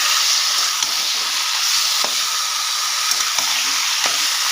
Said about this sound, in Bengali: শাকটা দিয়ে ভালো করে এবার আমি এটাকে মেরে নেবো